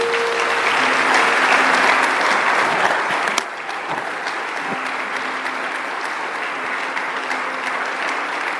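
Church congregation breaks into loud, sustained applause, a dense even roar of clapping that drops slightly in level partway through and continues steadily.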